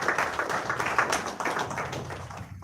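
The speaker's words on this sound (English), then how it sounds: "Let's give him a round of applause." An audience at the Dempo Challengers jersey launch claps for a welcomed guest, a moderately loud, fairly dense round of applause that holds steady and then begins to taper.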